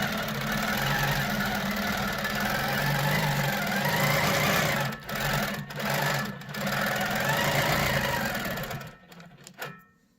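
A long arm quilting machine stitching, a loud steady mechanical hum and rapid needle chatter with brief dips, slowing and stopping with a few clicks at the end.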